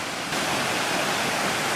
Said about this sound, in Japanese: 目の前の川、目の前の川